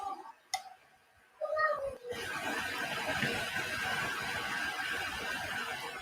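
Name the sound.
cat meowing in a video being watched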